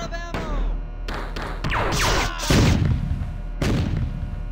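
Explosions in the shooter video game Marathon 2 boom loudly in several separate bursts, the biggest blast landing near the middle, with ringing tails and debris after each.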